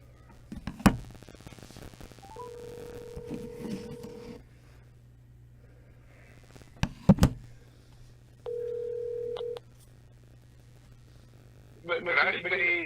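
A telephone call being reconnected produces sharp clicks and knocks, a steady low line hum, and flat dial tones held for a couple of seconds each, with bursts of voices at the end.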